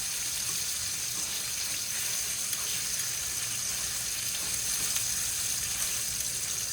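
Steak sizzles steadily in a hot pan with melted butter, a dense, continuous frying hiss that stays close and even throughout, with no voices.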